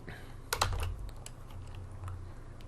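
Keys clatter on a computer keyboard while HTML code for an image map is entered, quick irregular taps with a brief burst early on, close and fairly quiet, no voices.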